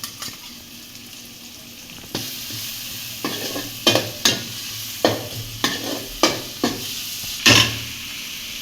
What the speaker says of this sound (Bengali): হলুদ গুঁড়ো মরিচের গুঁড়ো মশলা এবার বাটা মশলা দিয়ে দিছি